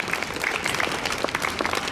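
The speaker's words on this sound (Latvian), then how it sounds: "Aplausi direktorai Ivatai Mietulei." Applause from an audience at a Researchers' Night science event in Rēzekne, honouring the director: dense, steady clapping throughout, moderately loud and without speech.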